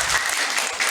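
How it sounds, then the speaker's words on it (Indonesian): Audience applause for the women in the crowd, a brief burst of dense, steady clapping from many hands, loud and close. "Tepuk tangan dulu buat ibu-ibu banyak."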